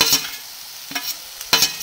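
Chilli, ginger and garlic paste sizzling in hot oil for a crispy dosa filling, with three short bursts of frying and stirring spread across a quiet background, close and fairly loud.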